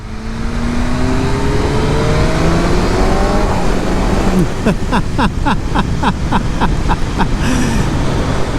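A 2023 BMW M 1000 R motorcycle with the competition package rides on the street, its engine loud and close as it revs through rising gears, then burbles and pops as it slows.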